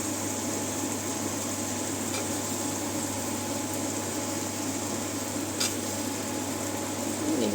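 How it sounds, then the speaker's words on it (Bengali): Potatoes frying in a pan of hot oil at home, a steady dense sizzle holding constant throughout with a few faint clinks of a utensil, no voices. "তো মোটামুটি আমার ভাজা ভাজা হয়ে গেছে, এর মধ্যে আমি আলুগুলো দিয়ে দিই,"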